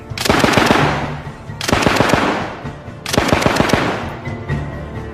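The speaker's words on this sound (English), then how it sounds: "The Type 11 from 1922 was the standard light machine gun." A Japanese Type 11 light machine gun from 1922, a hopper-fed World War II weapon, fires three loud, close, rapid automatic bursts separated by short pauses.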